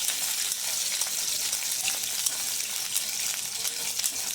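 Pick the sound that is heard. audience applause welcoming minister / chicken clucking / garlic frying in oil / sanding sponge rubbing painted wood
garlic frying in oil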